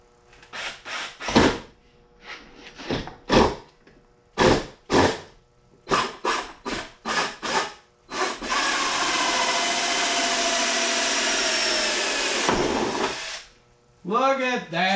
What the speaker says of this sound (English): That way we can drill it just about anywhere.